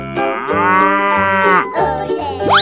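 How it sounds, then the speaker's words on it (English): A cow moos in a long, loud, drawn-out call lasting about two seconds, followed by a shorter second moo, with a synthetic-sounding backing beat underneath. "cow,"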